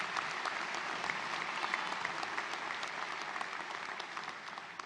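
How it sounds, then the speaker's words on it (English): Sustained applause from a large crowd at a university commencement ceremony, dense and even throughout, heard from a distance in a big space. "Let's give a round of applause for their help and participation today."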